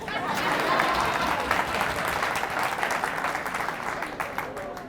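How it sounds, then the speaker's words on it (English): Sustained applause fills a motivational leadership talk, a dense, steady wash of clapping that holds for about five seconds and fades slightly toward the end. "Now I'll clap for myself"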